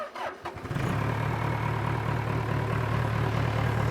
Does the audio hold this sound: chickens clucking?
no